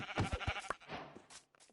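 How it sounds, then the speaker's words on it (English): Sheep in Minecraft bleat in a short game-audio burst, a few quick wavering calls close up and fairly loud, then trailing off into quieter sounds. "I think I need to start killing some of these sheep."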